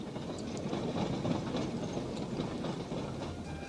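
A battery-driven train creeps slowly along the track while working in a tunnel, giving off a steady rumbling clatter with faint rhythmic clicks and ratcheting, at moderate loudness and without speech.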